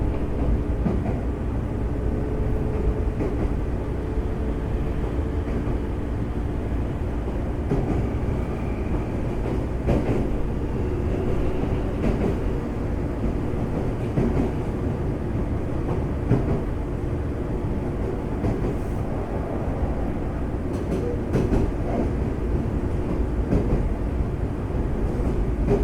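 A Semboku Rapid Railway 5000 series train with unrenewed Hitachi GTO equipment is heard from inside on a section express run, with a steady loud rumble of running and faint wheel clatter throughout and no talk.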